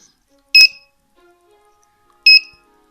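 Two short, sharp electronic beeps about two seconds apart from the buzzer of a DIY alarm clock kit, loud and close against a quiet background.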